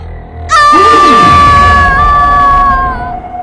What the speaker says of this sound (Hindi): प्रीति की चीख की आवाज से सारे दोस्त चौंक गए